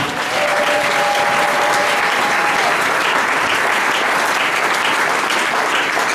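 A church congregation bursts into sustained, dense applause to acclaim the Lord, loud and even throughout, with a faint whistle near the start.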